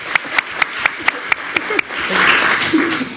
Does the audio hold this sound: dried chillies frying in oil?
no